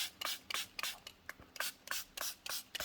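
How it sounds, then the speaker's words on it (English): A spray bottle mists watercolor paints on a palette, about ten quick, faint, close spritzes in an irregular rhythm. "I'm gonna spray my paints."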